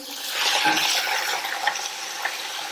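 Chopped onion dropped into a hot pan for chayote chutney, a brief soft hiss and sizzle that swells and then settles into a gentle, fairly quiet frying sound.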